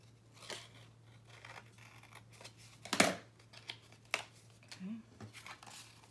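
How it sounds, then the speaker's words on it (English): Scissors trim paper for a handmade memory box and wallet, with a few quiet, close snips and light rustling of paper in a soft, otherwise still room. "Okay, so I'm going to trim this a little more."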